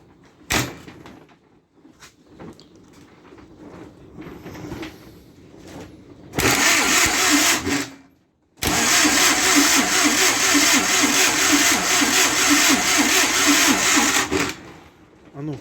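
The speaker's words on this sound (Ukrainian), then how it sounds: "Поставив стартер для того, щоб ну, заляв нігрол, провірити, чи все крутиться, чи все нормально." A YuMZ-6 tractor engine, freshly filled with nigrol gear oil, is turned over by its starter motor: a loud, steady mechanical whirring in two long bursts separated by a brief pause, after a stretch of quieter shop sounds.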